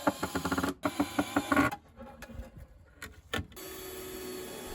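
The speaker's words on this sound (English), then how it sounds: "I'm just screwing 3-inch deck screws into the corners." A power drill drives 3-inch deck screws into the corners of a wooden cedar step base, making a close whirring, ratcheting buzz in fast pulses that gives way to quieter handling noises and then a steady low hum.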